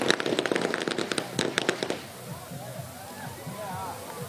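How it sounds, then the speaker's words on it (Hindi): Firecrackers bursting at an election victory celebration outside a BJP office amid a large crowd, a rapid, loud string of sharp cracks for about two seconds, then fading to crowd noise and distant chatter. "काफ़ी पटाखे बज रहे हैं"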